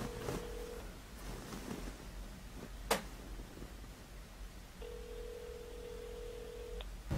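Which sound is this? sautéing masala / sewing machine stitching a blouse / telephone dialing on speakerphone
telephone dialing on speakerphone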